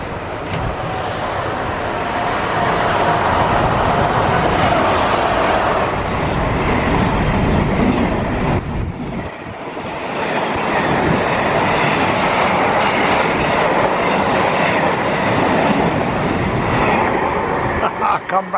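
A freight train rolls through a station bound for a rail freight terminal, a loud, sustained rumble and rattle of wagons close by with a brief dip midway before the clatter resumes.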